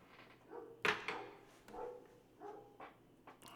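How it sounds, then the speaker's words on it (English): Thor the dog barks outside, a few faint, distant yips and barks spread over a few seconds against a quiet indoor background. "Thor is out there barking."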